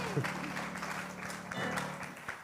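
Audience at an improv performance applauding, a brief moderate patter of clapping mixed with voices and a faint background tone.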